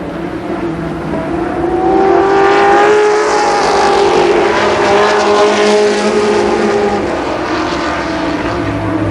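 Stock cars race at Columbus Motor Speedway, a loud roar of several engines at speed, swelling and fading slightly as the pack passes over nine seconds, without talk.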